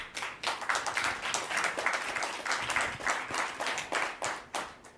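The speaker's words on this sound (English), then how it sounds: "Not everybody applauds." An audience at a Halifax chat with former Ukrainian president Petro Poroshenko claps in a moderate, fairly sparse round of applause that rises and falls steadily, with no voices.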